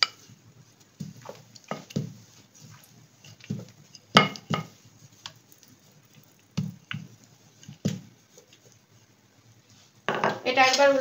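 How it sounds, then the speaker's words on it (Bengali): Aloo paratha dough is rolled out with soft, rhythmic thumps and knocks while another paratha cooks on a tawa, and a short burst of sizzling rises at the very end. "আমি আরেকটা বেলে নিচ্ছি, ওটা ভাজা হতে হতে।"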